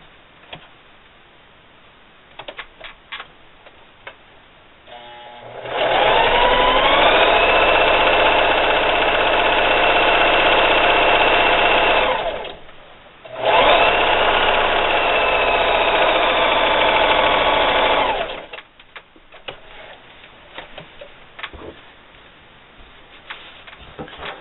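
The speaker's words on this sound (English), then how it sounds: "And sew a quarter inch seam allowance." A sewing machine runs a quarter inch seam on a scrappy shirt quilt block, a steady, loud whirring hum of rapid needle strokes in two long runs separated by a short pause, with faint handling sounds before and after.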